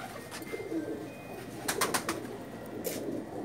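A pair of Batera breed Pakistani pigeons coos softly on a rooftop, low murmuring calls under some background noise, with a few brief bright clicks and rustles in between.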